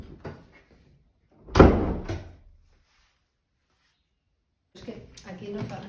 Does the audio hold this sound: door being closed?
yes